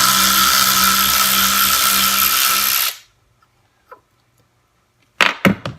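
A Kimo 12-volt cordless ratchet whirs loudly and steadily for about three seconds while backing out a lag bolt, then stops, followed by a couple of faint clicks and sharp handling knocks.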